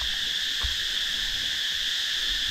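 A constant high-pitched drone of crickets chirping fills the air on a beach in Koh Phayam, Thailand, with a few soft low thumps and no talking.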